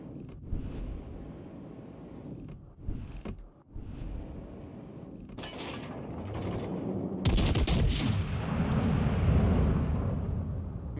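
Battleship artillery fire in World of Warships Legends: several sharp booming shots and mechanical creaks over the first seconds, then a sustained loud roaring barrage building through the rest.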